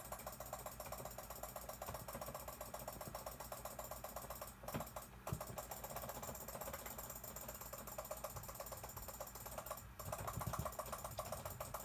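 Rapid, continuous computer mouse clicking during a Cookie Clicker game, a dense rattling stream of small clicks that runs steadily throughout, fairly quiet, with no talking.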